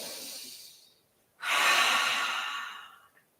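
A single deep cleansing breath during a yoga session, a long loud exhale that swells suddenly after a quiet inhale and then tapers off slowly, close and airy.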